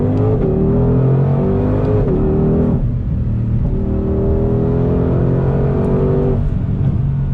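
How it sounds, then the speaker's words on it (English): A 2020 Ford Mustang Shelby GT500 engine roars loud and close, revs climbing and dropping through crisp downshifts, with distinct shift breaks before it pulls hard again under acceleration; no one talks. "You hear those downshifts? So crisp."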